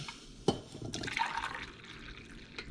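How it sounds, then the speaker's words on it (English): Coffee is poured into a cup at home during breakfast prep, a soft rising trickle of liquid after a brief clink, quiet and close with no talk. "While that's heating up, I'm gonna pour myself a cup of coffee."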